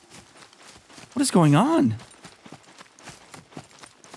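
Horse hooves clip-clopping in the survival game SCUM: soft, rapid hoofbeats through the clip with a brief loud whinny-like cry in the middle, while a person talks.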